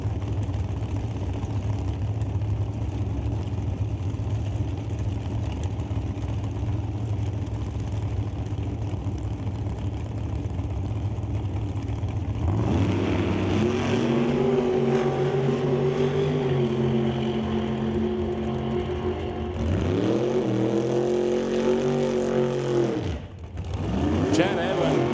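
Old-time drag race car running at Mission Raceway Park during qualifying, a continuous distant engine roar that climbs in pitch as it accelerates down the track, with a commentator talking over it.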